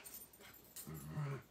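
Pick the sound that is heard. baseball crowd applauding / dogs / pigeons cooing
dogs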